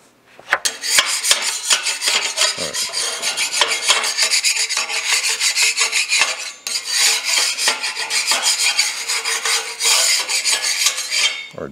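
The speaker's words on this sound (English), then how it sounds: "Clean some slag off the back of this." Slag or dross is scraped and filed off the back of a piece of metal, giving a loud, rapid, gritty rasping that keeps up in continuous strokes with one short pause.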